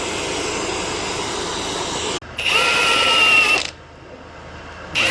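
A pneumatic air impact gun hammers loose the crank pulley bolt on a Mazda 2.3 engine during a timing chain job, with a close, loud burst of rattling and whining that stops abruptly, followed by a shorter second burst.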